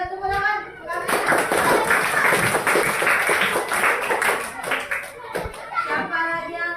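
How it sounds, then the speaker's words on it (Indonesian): Schoolchildren clap together in a primary school classroom, a dense burst of hand claps that swells and holds for several seconds before thinning into scattered claps, with children's voices mixed in. "Ya, tepuk tangan."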